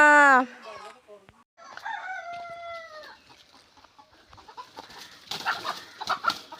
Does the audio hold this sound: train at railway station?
no